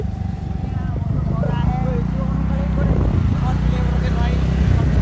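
A scooter engine hums at low revs while riding slowly through rain, a steady close drone under continuous talking, with road and wet-weather noise throughout.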